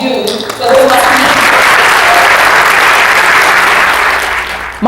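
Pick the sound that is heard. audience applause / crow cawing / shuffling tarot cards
audience applause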